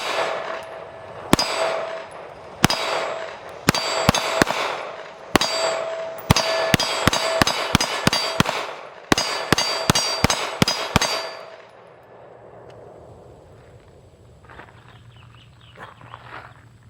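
A Springfield Echelon pistol with a factory trigger fires about twenty sharp, loud shots, first spaced out and then in quick strings. A quieter ambient hum follows once the shooting stops.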